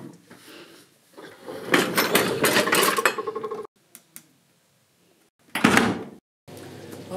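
A home dishwasher door clatters as dishes and cutlery are handled inside, with loud clinking bursts, a quiet pause, then another sharp rattle close by.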